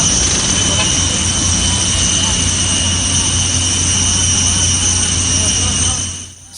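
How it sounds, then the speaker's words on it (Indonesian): Royal aircraft carrying a king's delegation departs Bali's I Gusti Ngurah Rai International Airport, a steady loud jet engine roar filling the whole stretch before fading slightly at the end. "Raja Salman beserta rombongan berangkat dengan pesawat kerajaan dari Bandara Internasional I Gusti Ngurah Rai Bali"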